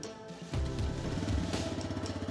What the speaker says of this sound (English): when we start the engine, also notice that this bike, thanks to the ISG, has a very silent start